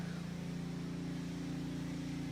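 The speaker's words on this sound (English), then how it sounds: "Now Chris is right here power washing, so excuse the noise." Pressure washer running steadily outdoors, a faint, continuous motor drone with a stable low hum and a hissing spray underneath, no breaks across the stretch.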